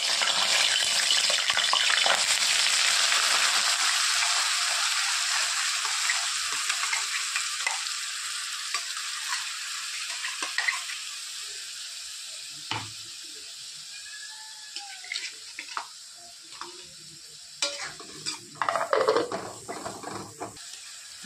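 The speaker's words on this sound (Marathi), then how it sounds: "तेल गरम झालंय, आता टाकत आहे जिरे" Cumin seeds crackle and sizzle in hot oil for a curry, a loud frying hiss that slowly fades, with scattered pops and a few stirring clinks near the end.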